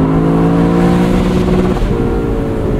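A 2024 Lexus LC 500 convertible with a torque-converter automatic revs hard under acceleration, a loud, close, steady engine drone that shifts pitch partway through, with no talking.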